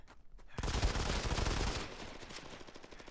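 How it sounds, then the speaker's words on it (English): Bursts of gunfire in the mobile shooter Go4MC5, loud and dense rapid shots starting abruptly and rattling on for over a second before easing into a quieter patter of distant shooting. "someone is still shooting at you"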